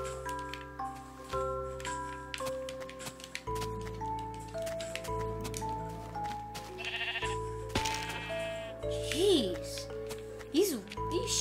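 Minecraft sheep bleat a few times in short wavering calls over a steady synthesized game melody, with brief ticking and clicking effects mixed in.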